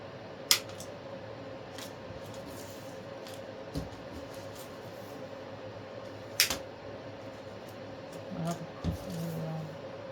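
Scissors snipping through artificial ficus stems for a Valentine's hat box flower arrangement, a few sharp isolated cuts spaced apart over steady low room hum, with brief voice near the end.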